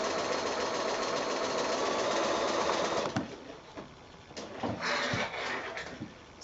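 A sewing machine stitches a quilt seam at a fast, steady run, then stops after about three seconds, leaving quieter handling clicks and bursts of machine noise.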